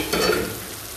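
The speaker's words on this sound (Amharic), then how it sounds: "ሽንኩርቱ እንዲህ መጠበስ አለበት።" Onions sizzle in a pan with ginger and garlic for shrimp biryani, with a quick stirring scrape followed by a steady close hiss and no talking.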